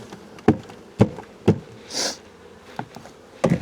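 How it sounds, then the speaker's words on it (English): Honey bees are shaken into a hive with a series of sharp, evenly spaced thumps about every half second, and a brief burst of buzzing rises between them. "I just shake these bees in here"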